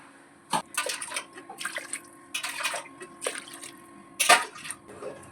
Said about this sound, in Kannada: ಇಲ್ಲಿ ಒಂಬತ್ತು ಲೋಟ ನೀರು ಹಾಕ್ತೇನೆ